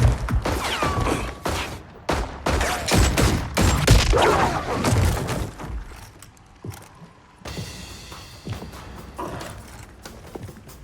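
Rapid bursts of gunfire from the Mortal Kombat video game crackle loudly through the first half, dense and overlapping, then thin out into quieter mechanical rattling and fainter shots.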